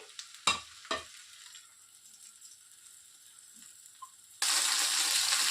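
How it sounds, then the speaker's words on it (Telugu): Pan-frying of three chopped medium tomatoes with a couple of pieces of tamarind for an Andhra methi chutney, with two sharp stirring clatters early on, a faint low sizzle, then a louder steady hiss toward the end. "టమోటాలను మరియు ఒక 2 పిచ్చలు చింతపండును వేసేసుకొని చక్కగా ఫ్రై చేసుకోవాలండి"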